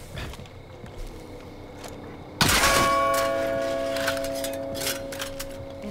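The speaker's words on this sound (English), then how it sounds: "Hit that bell however you please and the bear comes running after a few things." Bell struck as a signal in the video game Far Cry New Dawn: a sudden loud clang rings out and its metallic tone hangs on, slowly decaying over a quiet background.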